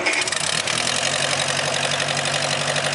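A 1957 Massey Harris Ferguson F40 high tractor with a Continental Z134 engine idles close by, a loud, steady mid-pitched rumble with an even, slightly knocking pulse throughout.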